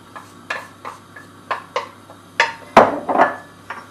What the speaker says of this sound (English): Then throw in your onions